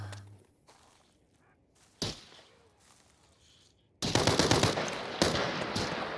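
Gunfire in the video game Arena Breakout Infinite: a few isolated shots, a sharp crack, then a loud, sustained burst of rapid automatic fire with dense overlapping reports.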